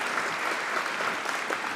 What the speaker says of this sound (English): So a quick round of applause for Tom, please.